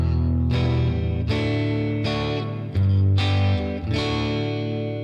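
Distorted electric guitar strums two bars of chords, about six struck chords in an even rhythm, each ringing before the next, with no talking.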